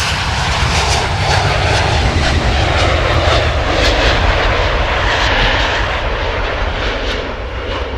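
An Airbus A320 airliner passes overhead with a loud, sustained engine roar that holds steady throughout, heard alone with no voices.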